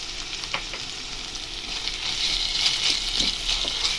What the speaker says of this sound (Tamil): இப்போ இதோட இஞ்சி பூண்டு பேஸ்ட் போட்டுக்கலாம்.